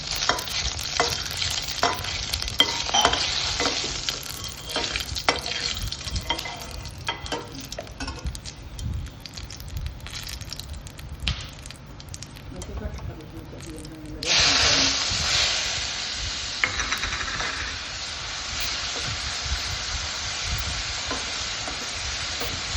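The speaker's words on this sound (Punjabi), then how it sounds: "ਤੜਕਾ ਤਿਆਰ ਕਰਾਂਗੇ ਜੀ" Spices for a tadka sizzle in hot oil during the cooking of palak paneer, a steady frying hiss with stirring clatter throughout. A louder burst of sizzling comes partway through, as though more ingredients hit the pan.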